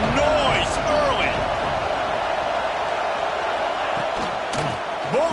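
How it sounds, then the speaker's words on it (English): Steady stadium crowd roar from a football video game, a dense continuous wash of noise with a commentator talking over it. "This crowd bringing the energy and noise early."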